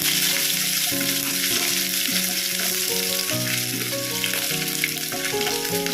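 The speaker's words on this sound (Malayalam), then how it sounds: "കടുക് ഒന്ന് പൊട്ടി വരട്ടെ കടുക് പൊട്ടിയിട്ടുണ്ട്" Continuous sizzling crackle of mustard seeds spluttering in hot oil, close and steady, with a musical tune playing throughout.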